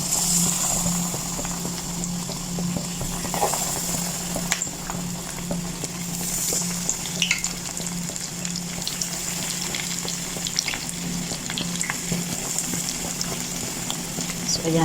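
Pieces of fried chicken bubbling in hot cooking oil in a home kitchen, a continuous sizzling and bubbling with small pops and clicks throughout, while a voice talks over it.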